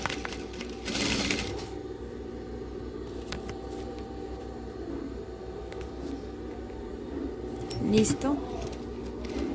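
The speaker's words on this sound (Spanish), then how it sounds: "volteamos y seguimos cosiendo" Sewing machine stitching a circular cloth face mask, its steady mechanical whir running under a woman's speech, with a louder burst near the start and another near the end.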